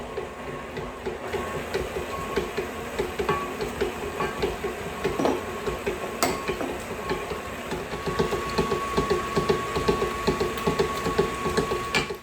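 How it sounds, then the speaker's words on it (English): A stand mixer with a paddle attachment beats cream cheese, pumpkin and eggs together. It gives a steady, close, rhythmic mechanical whirring with light clatter, continuous and a little louder toward the end. "I'm gonna go ahead and start combining these. And I'm just using the paddle attachment."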